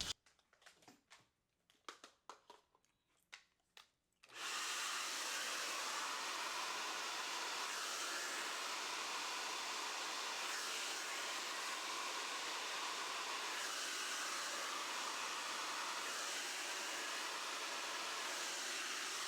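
A hair dryer roars steadily at close range while blow-drying a water wave wig, starting abruptly after a few seconds of quiet handling sounds and then holding a constant loud whoosh to the end.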